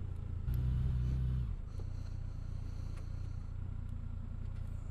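Motorcycle passing nearby, a loud low engine rumble for about a second before fading into a steady idle-like drone.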